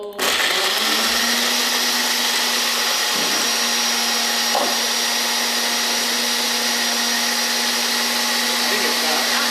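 A countertop blender whirs steadily at high speed while blending oats, oat milk and chocolate, a loud continuous motor drone running the whole length with a few faint knocks.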